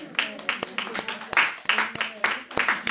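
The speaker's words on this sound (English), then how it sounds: "give the Lord a hand clap of praise" Sharp hand claps ring out in an irregular burst, a church congregation clapping together at moderate volume while voices carry on underneath.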